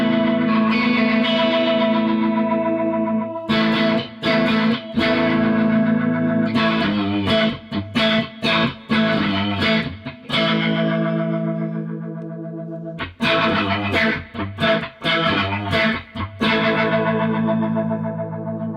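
Guitar chords and short riffs run through a Strymon Lex V2 rotary speaker pedal with its mix knob turned fully up, swirling and slightly driven, with sustained passages and choppy bursts, loud and close, no voice.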